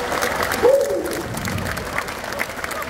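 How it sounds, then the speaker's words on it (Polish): Audience applause and crowd noise at a Romani music festival concert in Gorzów, a steady wash of clapping filling the hall as a band takes the stage, with a brief tonal sweep near the start. "Wielkie brawa!"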